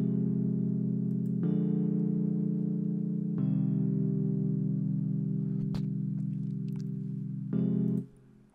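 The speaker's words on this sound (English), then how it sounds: "So it's a stage EP, and it sounds like this." Stage electric piano chords from SampleTank for an Afro house track: three long sustained chords held steadily, each changing at a clean attack, then a short final stab that cuts off abruptly, with no voices.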